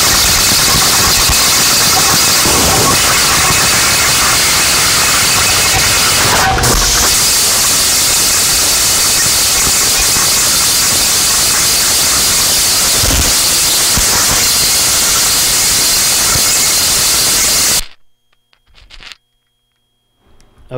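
A harsh noise pedal with the highs turned up roars as a dense, crispy wall of bright hiss and static for about eighteen seconds, loud and unbroken, then cuts off abruptly to near silence.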